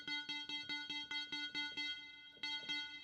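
Arturia Pigments software synth playing a repeated short plucky note pattern, about a dozen evenly spaced hits with harmonic tones, run fully wet through a send-bus reverb so each note smears into a lingering wash; moderately quiet and alone.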